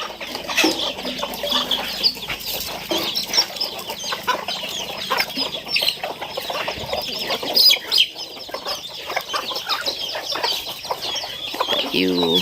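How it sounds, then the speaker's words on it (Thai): Chickens kept at a family home in rural Laos cluck and chatter continuously close by, with scattered squawks and wing rustles, while people talk faintly in the background. "เลี้ยงไก่"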